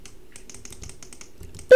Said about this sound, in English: I gotta change something on my keyboard.